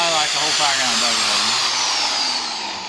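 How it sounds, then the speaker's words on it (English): A power drill drives screws into wood on a trailer deck, whirring steadily with a rising and falling pitch, close and fairly loud, winding down near the end. "Now we get to put the screws in, and you get to drill the next one."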